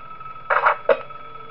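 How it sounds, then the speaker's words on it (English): In the horror game Five Nights At Wario's, a phone gives two short, close rings in quick succession, the first longer, over a quiet hum, with no talking. "Alright, we get a phone call."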